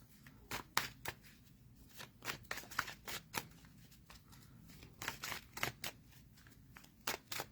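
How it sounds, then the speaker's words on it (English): Tarot deck shuffled by hand in a quiet room, a steady run of crisp riffling card snaps and soft slides repeating close to the listener with no talk. "And I'm just intuitively shuffling, as I've mentioned, until I feel like I should stop."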